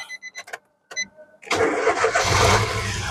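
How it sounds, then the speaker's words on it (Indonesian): A 2011 Nissan March 1.2-litre manual hatchback cranks briefly and catches, settling into a loud, close, steady idle, preceded by a few short clicks and beeps. "Terus barulah kita coba nyalakan mobil."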